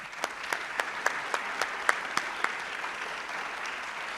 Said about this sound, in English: If you can help me give them all a round of applause.